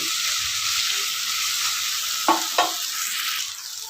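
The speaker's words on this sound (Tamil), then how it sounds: "பாருங்கள் வெங்காயம் தக்காளி நல்லா வதங்கிடுச்சு" Steady sizzling of onions and tomatoes frying in oil, with two brief clinks of a utensil stirring the pan near the end.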